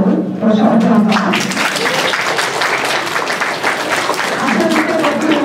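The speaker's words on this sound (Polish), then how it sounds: "Proszę o brawa." Crowd at an outdoor summer child road-safety event in Solec nad Wisłą clapping loudly and continuously, a dense wash of applause throughout with some voices mixed in.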